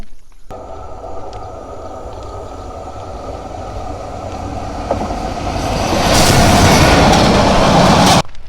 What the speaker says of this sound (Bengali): আমাদের চলার পথে একটা ট্রেন আমাদের মাঝখান দিয়ে মানে সামন দিয়ে গেছে